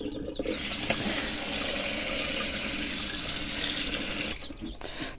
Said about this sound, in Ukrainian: А крила зараз налю водою і хай розмерзається.